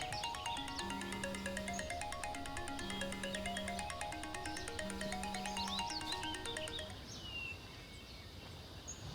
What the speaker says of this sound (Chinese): 这个周总，我接个电话啊。